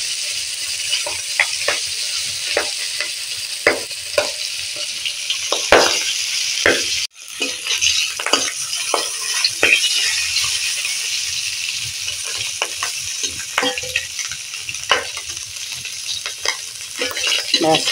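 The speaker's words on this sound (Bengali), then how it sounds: "আর তাই ফুটছে, অল্প তেল দিয়েছি তাই মাছটা ফুটছে।" Stinging catfish half-fries in a little oil in a pan, giving a steady close sizzle scattered with sharp pops and crackles, with one brief dropout partway through and no talk.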